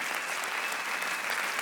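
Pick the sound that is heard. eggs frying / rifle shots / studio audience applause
studio audience applause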